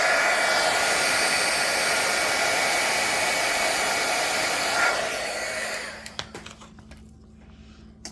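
A heat gun blows on bubbly resin in a cold room, a steady loud whooshing hum for several seconds that then cuts off, leaving a few small clicks and faint handling sounds.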